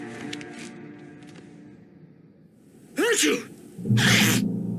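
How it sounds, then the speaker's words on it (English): A loud, sharp sneeze bursts out in the PC game Alan Wake, followed by a second breathy sneeze-like blast, over a quiet background of low tones. "Achoo!"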